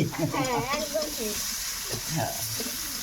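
Ash gourd pieces frying in a wok, with a steady sizzle and stirring throughout while a voice talks over the cooking.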